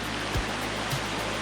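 A wide stream, about 25 feet across, flows under a small bridge on a hiking trail, with rapids and little waterfalls nearby. It makes a steady, close, broadband rush of water with a couple of faint low thumps.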